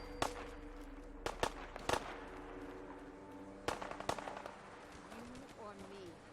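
Raiders trade gunfire in Fallout 4, with a handful of sharp, scattered shots cracking at irregular intervals over a quiet background while a person talks.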